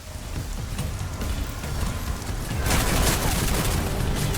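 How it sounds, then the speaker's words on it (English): Dense, continuous rapid gunfire crackles throughout in the video game Deus Ex: Mankind Divided, growing heavier and louder toward the end, with no voices over it. "Pay no attention to the gunfire."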